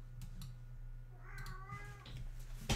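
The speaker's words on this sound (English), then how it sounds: "Why are you so mad, kitten?" A kitten gives one drawn-out, fairly faint meow over a steady low electrical hum, followed by a sharp tap near the end.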